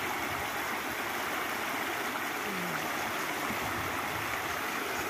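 Steady broadband rush of the Cañaveralejo river flowing, a close, continuous stream of water with no talking over it.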